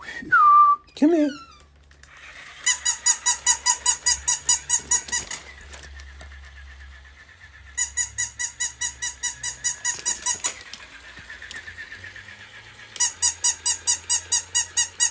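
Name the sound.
squeaky toy dog for a cat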